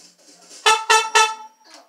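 Three short, bright tongued saxophone notes played in quick even succession, close and loud, with faint breathy noise before and after them.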